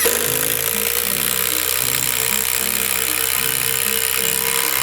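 A Harbor Freight impact driver driving a fastener gives a loud, continuous rapid hammering buzz close by, holding steady throughout with a slight shift in pitch near the end.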